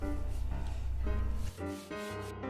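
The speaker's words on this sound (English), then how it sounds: "I sanded each of the sides down" Steady, rhythmic rubbing of sandpaper against wood, close up and continuous, with brief pauses and no voices.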